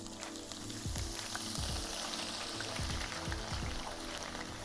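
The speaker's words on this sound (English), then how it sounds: "Now we can put our lemongrass straight in here and start frying our lemongrass." Steady sizzling and crackling of lemongrass frying in hot oil, with occasional low scraping thumps of stirring.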